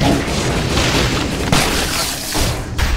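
Ice bomb blasts in the Dead Cells action game: a dense, noisy boom that rolls on for seconds, with further bursts near the middle and the end, loud and close, with no talking.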